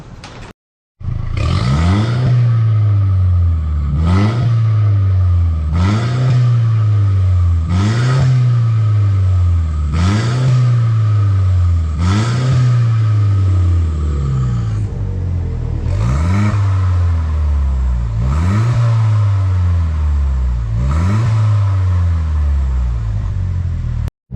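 Loud, close exhaust of a Mercedes-Benz C-Class W205 with an adjustable aftermarket exhaust tuned toward a C43 AMG sound, about a dozen sharp throttle blips rising and falling in a steady rhythm, with a brief pause midway.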